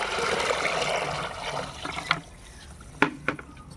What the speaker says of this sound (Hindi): मैं इसमें कम से कम 3 जग पानी मिलाने वाली हूँ